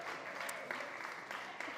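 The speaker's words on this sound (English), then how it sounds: "You could give him a round of applause if you want." Audience applause at a Food Tank talk during SXSW, a steady wash of clapping lasting the whole short stretch, with a few sharper claps standing out.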